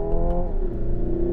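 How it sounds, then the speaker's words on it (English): A Hyundai IONIQ 5 N accelerates hard with its simulated engine tone rising steadily and then dropping through a programmed gear change, loud and close with no talking. "Hyundai did a great job programming the fake gear changes."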